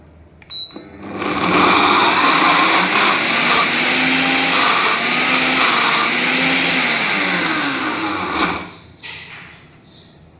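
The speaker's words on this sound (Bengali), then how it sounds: "তারপরে মিক্সিতে সেটা পেস্ট করে নেব। পেস্ট ঠিক না, মানে ঘুরিয়ে নেব যাতে দানাদার থাকে।" A kitchen mixer grinder coarsely grinds thinly sliced ivy gourd (kundri). Its motor whirs loudly and steadily for about seven seconds, then winds down and stops.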